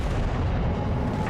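The battleship Pommern fires a salvo in the naval combat game World of Warships: a single deep, rumbling cannon boom that fills the brief moment, loud and heavy with no voices over it.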